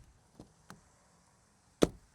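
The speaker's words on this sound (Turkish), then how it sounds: "Kapı sesine de bakalım." Door of a Peugeot 3008 Plug-In Hybrid Allure: two light knocks, then one solid, deep thud as it shuts close by, with quiet between.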